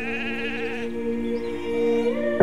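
Sheep bleating on railway tracks, a long wavering bleat followed by another rising call at the end, close and clear over low background hum.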